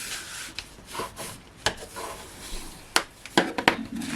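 A hand burnishing tool rubs firmly across paper in a card-crafting project, giving irregular scraping strokes and soft taps, close and fairly quiet.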